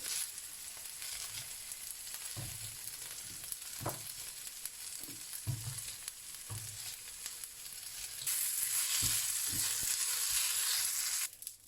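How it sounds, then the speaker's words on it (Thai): Glass noodles sizzling steadily in hot oil in a pan while making fried buns, with soft stirring and scraping taps now and then; the frying grows louder and hissier toward the end, and no one speaks. "ใส่วุ้นเส้นก่อนเลย เพื่อที่จะให้เขา สุกนะคะ"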